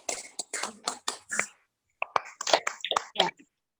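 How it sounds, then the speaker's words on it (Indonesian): A group of teenagers at a church youth gathering claps in two short rhythmic bursts of about six claps each, separated by a brief pause, sharp and close. "Tepuk tangan dulu semuanya"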